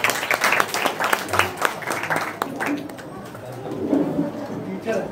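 An audience at a high school naat program bursts into loud applause that gradually thins out, with talking and some bird calls in the background.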